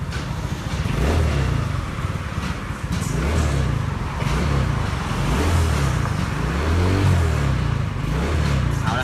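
A Honda PCX150 scooter engine revs repeatedly up and down with its rear wheel spinning freely, a loud close droning motor rising and falling in several surges throughout.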